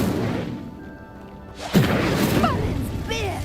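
An Incendio fire spell in Hogwarts Legacy ignites a pyre: after a quiet lull with faint ambience, a sudden whooshing burst of flame erupts and rumbles on under a man's excited speech.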